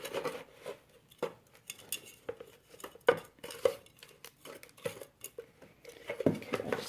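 Potting soil being mixed by hand in a hypertufa container, giving soft scraping, scooping and gritty clinks in an irregular, close patter with no one talking.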